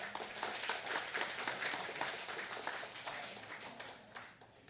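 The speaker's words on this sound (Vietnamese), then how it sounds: "Xin mời cho một tràng pháo tay" Audience applause at a memorial ceremony for a cải lương playwright in California, a steady wash of many hands clapping that fades slightly toward the end.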